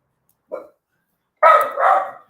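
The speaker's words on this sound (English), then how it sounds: "Don't mind my dog in the background." A dog barks in a quiet room, one short yip followed after a pause by two louder, fuller barks in quick succession, fairly close with no talk over them.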